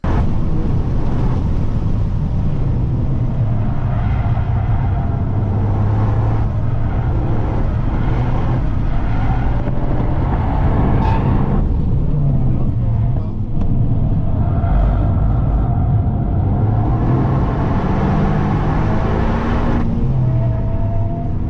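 A Toyota GR Yaris laps the Tsukuba 1000 circuit on test runs, a loud, continuous engine roar with rising and falling revs and gear changes, heard from inside the car.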